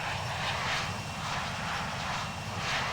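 Pan Am Boeing 747 engines roar on approach to land at JFK, a steady, loud, broad rumble with a low droning undertone, continuous throughout without talking.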